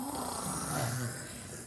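Voice imitating Santa snoring, a single drawn-out, rumbling snore in close range that swells and then fades over a couple of seconds.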